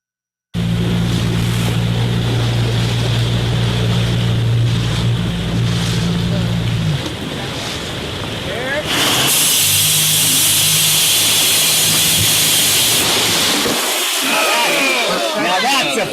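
Motorboat engine droning loudly on the open sea off New York after a whale is tagged, with wind and waves, then the motor drops away and splashing water and surf take over.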